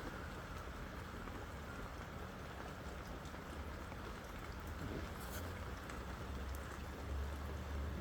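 Steady rain pours down without pause, a dense, even hiss of drops with a low rumble beneath, no voices present.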